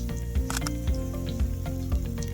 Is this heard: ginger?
yes